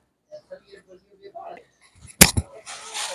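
A capacitor-based 8 kV shock booster fires a sharp, loud spark crack at about two seconds, followed by a brief crackle and a hissy buzz, after quiet scattered talk.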